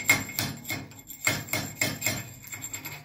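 Slag being knocked off a plasma-cut 1-inch steel plate, a series of sharp close metallic knocks and scrapes in irregular rhythm, about eight strikes over a few seconds, with no talking.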